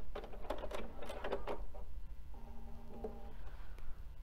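A sewing machine back stitching a placemat, a quiet run of rapid mechanical ticks and whirring, briefly pausing and starting again, close by and soft.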